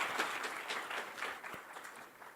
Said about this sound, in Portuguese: palmas para o Rogério.